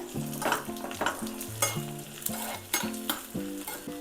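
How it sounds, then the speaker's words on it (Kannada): Close sizzling of onion and garlic tempering in oil for broad bean sambar, with rhythmic metallic stirring strokes and scrapes, several in quick succession, without any talking. "ಇದಕ್ಕೆ ಈರುಳ್ಳಿ ಬೆಳ್ಳುಳ್ಳಿ ಒಗ್ಗರಣೆ ಒಗ್ಗರಣೆ ಕೊಟ್ಟರೆ ಅವರೆಕಾಳು ಸಾಂಬಾರಿಗೆ ಚೆನ್ನಾಗಿರುತ್ತೆ"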